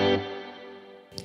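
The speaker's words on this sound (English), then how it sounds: "So here's a really short pre-delay for you to hear." Electric guitar chord through reverb with a very short pre-delay, the wash starting almost instantly and decaying smoothly for about a second before a brief pick noise at the end.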